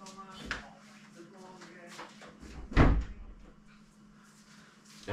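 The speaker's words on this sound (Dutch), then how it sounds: "Ik heb even de deur te doen, mensen." A door is shut indoors, giving one loud, close thud partway through, with a voice talking before and around it.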